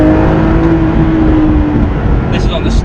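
A lightweight Porsche 911 GT3 RS-based car drives with its engine droning steadily up close and a faint rise in revs. A voice talks over it.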